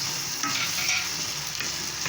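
Carrots and potatoes sizzle and crackle steadily in a hot pan while being sautéed for a borlotti bean stew, with occasional scrapes and stirs, and no talking.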